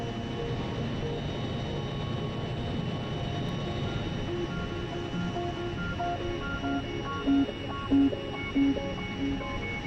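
A Fiat G-91 jet engine in Microsoft Flight Simulator spooling up as power is added, a steady mid-level turbine roar with some rising tones and faint chirps near the end.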